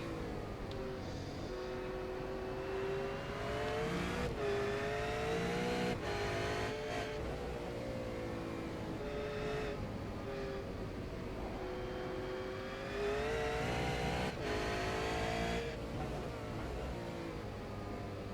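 A V8 Supercar race car engine roars during an onboard lap at the Circuit of the Americas, holding a steady high-revving drone with rising pitch sweeps and brief dips through gear changes.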